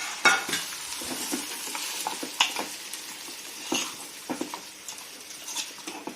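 Hot tempering sizzles as it is poured into cucumber chutney, a crackling fizz with scattered sharp pops and spatters that gradually settles, close by, no talking.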